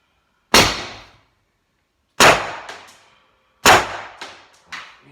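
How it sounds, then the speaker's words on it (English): Three sharp shots from a 17-cal pepperball launcher with a 9.5-inch barrel, loud and close, each a hard crack with a quick decay and small follow-up impacts, spaced about 1.5 seconds apart. "take a couple shots."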